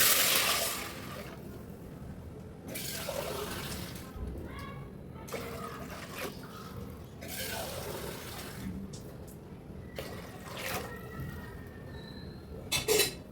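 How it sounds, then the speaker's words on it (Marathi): Water pours into toor dal in a cooking pot in several separate splashing bursts, close and moderately loud, with gaps of quieter kitchen noise between pours. "तीन तांबे पाणी टाकलेलं आहे"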